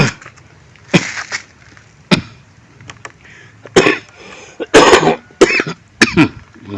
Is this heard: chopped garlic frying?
no